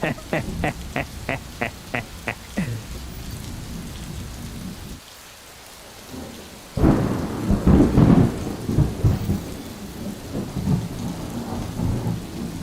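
Rain pours steadily during a thunderstorm in the video game Death Stranding, with a rolling thunder rumble building midway, while a person talks over it in bursts.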